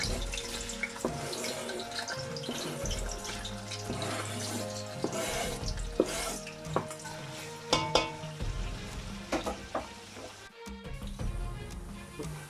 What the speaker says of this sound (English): while the onions is frying